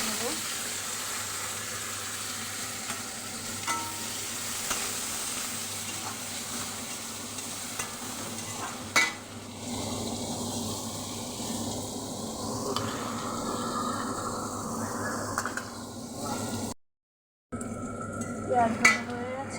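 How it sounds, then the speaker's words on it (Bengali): Onions frying in oil tempered with cumin, bay leaf and dried chilli, a steady close sizzle and crackle with occasional stirring scrapes running throughout, briefly cut near the end. "পেঁয়াজের ডালে জিরে, তেজপাতা, শুকনো লঙ্কা ফোড়ন দিয়ে পেঁয়াজটাকে ভালো করে ভেজে নেব।"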